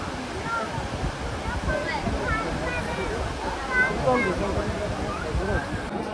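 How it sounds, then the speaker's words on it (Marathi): A waterfall at Marleshwar rushes as a continuous broadband wash in the background while several people chatter nearby over it. "इकडून धबधबा किती भारी दिसतोय बघा"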